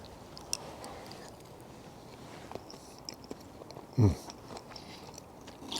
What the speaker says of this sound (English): Time to taste the apple and pear crumble. Oh, so that top's nice and crispy.